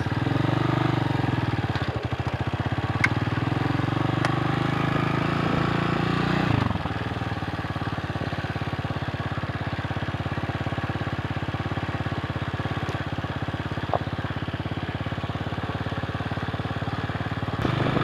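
A TC 200 motorcycle engine runs steadily on a sandy road, a loud, close, continuous mid-pitched drone that drops in pitch briefly partway through, then settles into an even idle-like hum.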